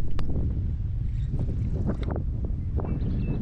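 Wind blows steadily outdoors during wade fishing, a constant low rumble buffeting the microphone, with faint splashes and knocks scattered through it.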